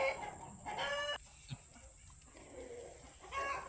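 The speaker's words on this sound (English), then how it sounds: "Don't mind all of the chickens that are chatting." Several pasture chickens cluck and chatter nearby in short bursts, with a rooster-like call among them, over a faint steady high-pitched hum near an electric fence on a goat farm.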